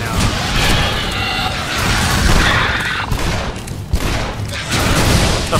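Pistol fire from the video game Shadow Warrior (2013), a dense run of loud, close shots and impacts crowding together with crashing effects, continuous over about six seconds with no speech.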